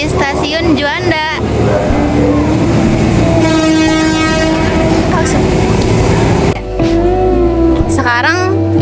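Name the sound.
train at Juanda railway station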